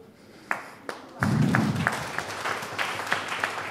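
Audience applause at a Monday information meeting in Salzburg, a short burst of clapping swelling in after a few isolated claps and then thinning to scattered hands, fairly near and moderately loud.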